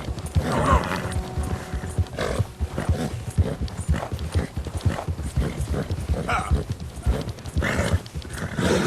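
Horse hooves clip-clop steadily while riding in the video game Red Dead Redemption 2, a continuous rhythmic trotting under dense ambient game sound, with occasional faint voice-like sounds mixed in.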